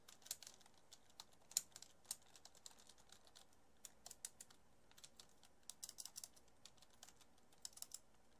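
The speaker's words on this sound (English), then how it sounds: "I can't type and this keyboard is so loud" Rapid clicking on a loud computer keyboard during a live-streamed Agar.io game, with uneven bursts of keystrokes, quiet and continuous, and no talking.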